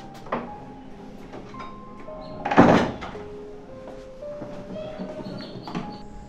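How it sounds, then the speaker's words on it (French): A door swung shut in a quiet room, giving a single solid thunk near the middle, with faint creaks and soft movement around it. "Je ferme la porte."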